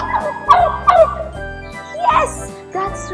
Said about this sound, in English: That's the sound of a turkey.